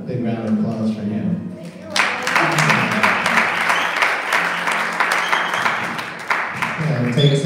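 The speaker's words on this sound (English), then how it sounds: "How about a big round of applause for him?" After a moment of talk, an audience at a benefit music show breaks into a big round of applause, steady clapping and cheering that holds for several seconds before a voice returns.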